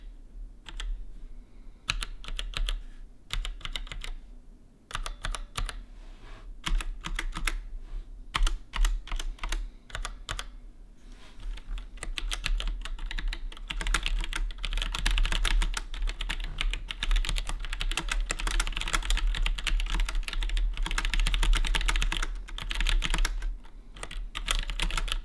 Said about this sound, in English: I think the switches feel really good. It's not too loud. They have a good sound to them,